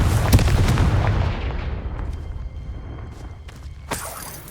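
A Confringo fire spell from Hogwarts Legacy bursts with a loud, rough blast that decays over about a second into low rumble and scattered debris clatter, followed by a sharper crack near the end.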